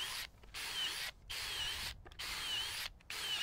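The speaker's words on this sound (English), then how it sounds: "In the next step, it was time to drill some pocket holes." Pocket holes drilled in wood for a self-watering raised garden planter, four loud drill bursts in a steady rhythm, each running close for about half a second to a second, separated by short pauses.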